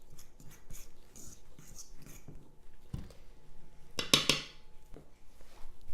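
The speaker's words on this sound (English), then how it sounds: "you just want to stir the cheese in, and I like to kind of give it a little push with the fork" A fork stirring shredded cheese into flour in a bowl: light repeated scrapes and taps of metal against the bowl, close and fairly quiet, with one sharper clatter near the end.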